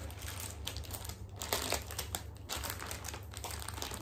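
A plastic polythene bag crinkles up close as a folded saree is packed into it, with soft, irregular rustles and crackles and a few sharper crinkling bursts over a low steady hum.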